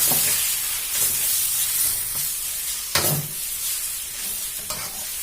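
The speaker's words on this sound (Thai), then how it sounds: "เมื่อเราผัดสักพักแล้วนะคะ" Instant noodles with kimchi, ketchup, oyster sauce and fish sauce stir-fried in a pan, a constant close sizzle broken by several scraping stirs of the spatula.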